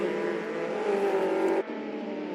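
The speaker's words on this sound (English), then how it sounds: "Todd exiting pits on mediums." Race car pulling out of the pits on medium tyres in Assetto Corsa, its engine a steady close drone with a rising whine that cuts off abruptly near the end, then settles to a lower hum.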